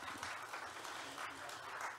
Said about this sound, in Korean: 다시 한번 뜨거운 박수 두 분에게 드리겠습니다